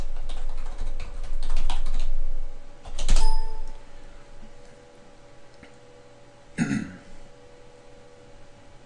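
Someone types an email address and password on a computer keyboard while signing in to an office account: scattered keystroke clicks with a couple of louder, sharper key hits, and no talking.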